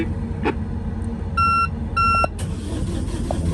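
Two short electronic beeps from a boat's engine start panel sound in succession over a steady engine rumble, followed by a brief clunk.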